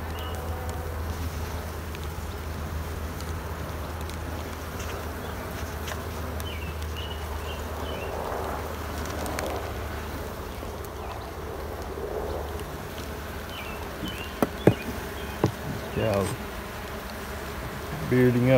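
Honey bees buzzing around a nuc hive in light rain during queen installation, a faint steady drone with brief knocks and handling sounds near the end.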